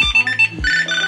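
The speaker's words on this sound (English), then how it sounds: "And just like that, my Tile is ringing." A Tile Mate Bluetooth tracker plays its ringtone, a loud close melodic chime of quick rising and falling electronic notes lasting about a second.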